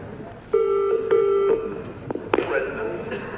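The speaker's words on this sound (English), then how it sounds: "It's ringing." An old landline telephone on a 1987 surprise television show rings with two bright electronic trill bursts, followed by a click and the start of handling noise as it is answered.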